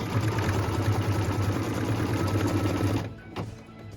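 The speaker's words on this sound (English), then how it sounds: "What we're stitching now is the cut line for piece number 6." An embroidery machine sews the cut line for an in-the-hoop zipper pouch, giving a steady, loud, rapid mechanical whir of stitching for three seconds before it stops abruptly, followed by a faint click.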